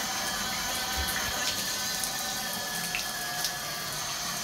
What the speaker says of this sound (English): So let me turn on the water, and the shower is going to come on.